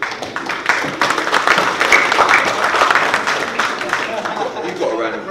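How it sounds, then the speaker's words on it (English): Applause at a boxing press conference for Dillian Whyte versus Joseph Parker at the O2, a dense patter of clapping from a room of people with voices mixed in throughout. "You've got a round of applause."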